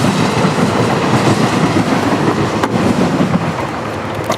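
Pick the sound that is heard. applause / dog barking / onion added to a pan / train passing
train passing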